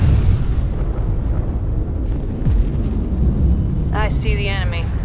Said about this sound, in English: We're being shot at, sir.